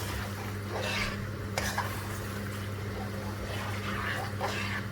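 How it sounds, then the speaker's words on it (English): Chicken liver curry being stirred gently in a pan, soft scraping and faint simmering over a constant low stove hum, with a sharper clink partway through. "So we're going to mix these really gently."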